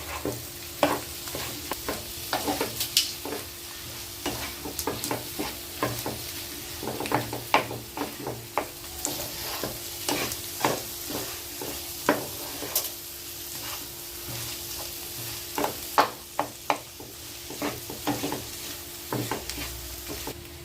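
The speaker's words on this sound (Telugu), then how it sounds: "ఈ ఉప్పు కారం పసుపు ధనియాల పౌడర్ అన్నీ కూడా ఈ బంగాళదుంపకు పట్టేలాగా కలిపేసుకుందాం." A mashed potato fry stirred in a pan with salt, chilli, turmeric and coriander powder, repeated scraping strokes of a spoon over a soft sizzle, close and steady without speech.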